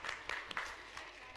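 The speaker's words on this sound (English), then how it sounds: "Round of applause" A small group claps for a skit troupe in a Bible-themed program: sparse, uneven hand claps with a few sharp, distinct hits, quiet and close, with no talking.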